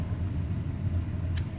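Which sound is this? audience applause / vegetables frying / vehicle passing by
vehicle passing by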